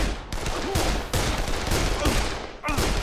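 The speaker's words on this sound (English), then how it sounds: "This is the first firefight of this game." Gunfire in a firefight in the video game Dead Island, a dense continuous crackle of shots filling the whole stretch, loud and close, with a brief break before another burst.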